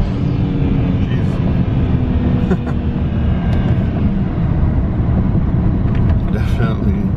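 A BMW N54 twin-turbo engine fitted with aftermarket inlets drones at partial throttle while driving, a steady loud low rumble with faint whooshing turbo air and occasional higher chirps over the constant road noise.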